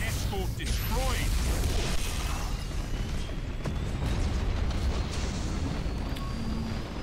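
Imperial escort ship blowing apart in the space strategy game Battlefleet Gothic Armada, heard as a loud, continuous broadband rumble and crackle across seven seconds with no clear separate blasts, under a wash of battle noise.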